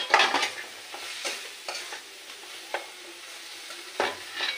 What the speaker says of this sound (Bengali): এবার নাড়াচাড়া দিয়ে নিলাম, দিয়ে এবার মশলাগুলো দিয়ে দেবো